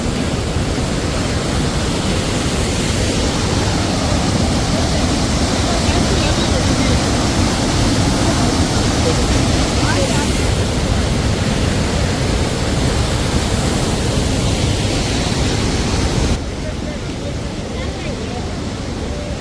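Steady, loud broadband rush of a river flowing beside a mountain pilgrimage trail between Sonprayag and Gaurikund, continuous and close, easing slightly near the end.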